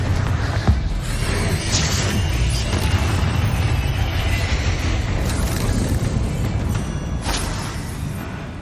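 Confringo spell blasts in the Hogwarts Legacy video game, a dense, continuous roar of fiery bursts and rumbling booms, loud and sustained throughout with a few sharper crackling peaks.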